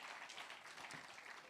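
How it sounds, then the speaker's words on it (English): An audience at a relationship event gives a round of applause, a faint, dense wash of many clapping hands heard from a distance for a brief moment. "give Len a big hand clap"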